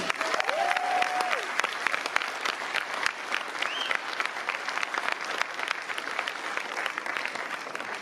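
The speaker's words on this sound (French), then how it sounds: "je vous demande de vous applaudir fortement aujourd'hui" Steady, dense audience applause fills a meeting hall in Bobigny at a political rally, continuous and even for several seconds, slightly distant, with faint whistles and crowd noise mixed in.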